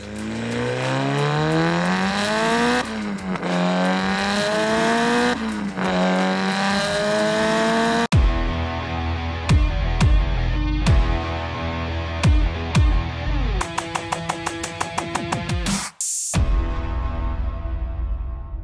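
A 500hp Mitsubishi Evo 9 revs hard in a close, loud recording, with rising and falling engine sweeps, sharp throttle blips and popping exhaust crackles in quick succession, and a brief cutout near the end.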